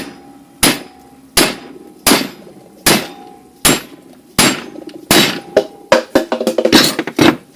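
Repeated hammer blows on a VW Cabrio Mk3.5 front wheel bearing hub held in vice jaws, sharp metallic whacks spaced about a second apart, then quickening into a rapid flurry of strikes near the end, loud and close with no talking.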